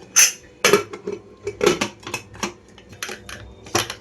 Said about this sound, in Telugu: ప్రెషర్ కుక్కర్ మూత పెట్టేసాను.